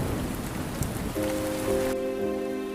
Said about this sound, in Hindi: एक अमरपुर गांव में सुबह सुबह बारिश हो रही थी।